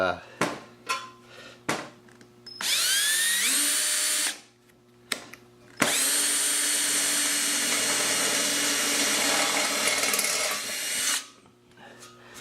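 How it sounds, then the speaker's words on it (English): A power drill grinds into the metal deck of a 1968 Ariens rotary mower in a long sustained whine after a few short sharp taps and brief bursts, with metallic rattling, loud and close. "Then you want to drill a hole."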